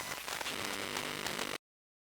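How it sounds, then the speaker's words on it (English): A short burst of dense, hissing radio static with faint crackle runs steadily for about a second and a half, then cuts off abruptly to silence. "we could do like some little radio static or something"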